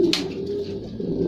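A small ringed racing pigeon coos softly and continuously while held in the hand, one low rolling call close up with a brief rustle at the start and no talking over it.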